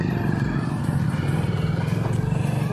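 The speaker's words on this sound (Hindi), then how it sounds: "तो यहाँ से काफ़ी ट्रैफिक आ रहा है इधर से" Road traffic passes near Nageshwar hill in Chhabra, Rajasthan, with a motorcycle's close, continuous putter and engine rumble holding steady throughout.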